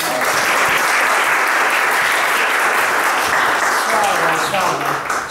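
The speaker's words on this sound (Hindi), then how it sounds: "एक दफा फिर से ताली।" An audience at a Sunday school event gives a child a burst of dense, sustained applause for her Bible verse reading. The clapping is loud and close and continues without a break.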